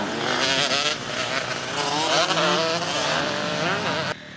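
Racing motorcycles roaring at high revs on a dusty track in near 40-degree heat, engines rising and falling in pitch as they pass, loud and continuous before cutting off abruptly near the end.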